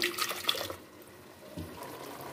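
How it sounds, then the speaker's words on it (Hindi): Water poured into a pan of chicken handi with blended tomato and onion, a brief splashing gush near the start that fades into a softer liquid trickle. "अब इसमें हम थोड़ा सा पानी ऐड करेंगे,"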